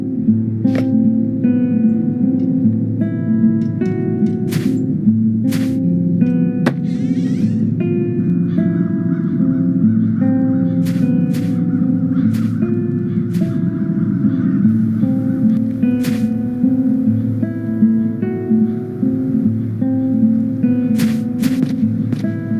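Crows caw repeatedly in The Dark Eye: Chains of Satinav video game, with loud harsh calls scattered over a dense droning musical background throughout.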